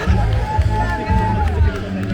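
Spectators along the Helsinki marathon course cheer and chatter as runners pass, with a brief whistle and crowd noise mixed with heavy footfalls and breathing close by, under a runner's speech.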